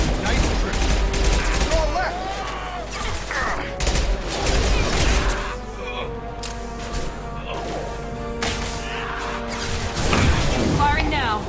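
Rapid bursts of gunfire and clattering impacts from a Mass Effect 2 firefight, loud and dense throughout with brief lulls, mixed with game music and voices talking over the action.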